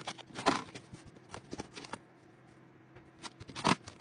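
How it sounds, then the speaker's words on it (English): Crisp snipping and cutting of fabric while sewing a placemat, with a few sharp scissor strokes, a quiet pause, then another cut. Close and fairly faint. "I trim off this underlying fabric because I'm going to put a piece of fusible interfacing behind it"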